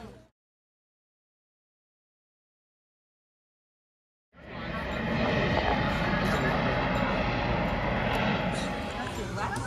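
A Coca-Cola sightseer tram in Wildwood Crest pulls away. After a few seconds of silence a broad, steady rumble of rolling and motor noise rises and holds, with voices mixed in at close range.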